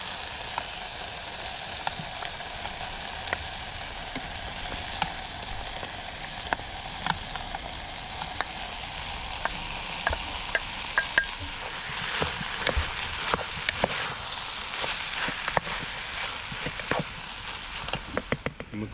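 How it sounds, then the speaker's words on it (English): Cubed steak and peppers sizzle steadily in a pan over a Trangia camping stove, a dense close crackle with scattered sharp pops and occasional faint stirring clicks throughout. "So I'm going to put the steak in with the peppers."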